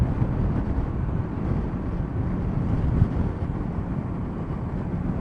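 Steady wind buffeting the microphone on a very windy morning, a continuous low rumble and roar with no talking, holding constant throughout.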